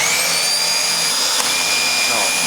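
A cordless stick vacuum cleaner runs steadily and loudly close by with a high whine and a constant motor drone, and there is no talk.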